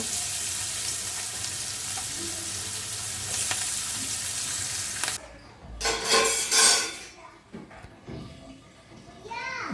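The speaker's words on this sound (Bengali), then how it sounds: "এখন একটু পেঁয়াজ, কাঁচামরিচ ভেজে নিব পটলের উপরে দেওয়ার জন্য" Onion and green chillies fry in a pan with a steady, close sizzle that cuts off after about five seconds, followed by a few stirring and utensil clatters and quieter kitchen noise.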